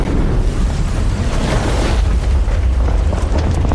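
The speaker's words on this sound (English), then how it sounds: "Explosion." A loud film-scene explosion, a sustained rumbling roar with heavy low end that fills the whole moment with no break, dense and continuous like a blast with debris, no speech over it.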